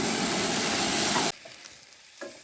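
Yakisoba noodles and vegetables sizzle loudly as they are stirred in a pan at a lakeside campsite, then the frying cuts off abruptly, leaving quiet scrapes.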